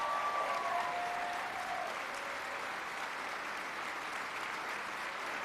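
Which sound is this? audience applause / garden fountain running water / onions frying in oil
audience applause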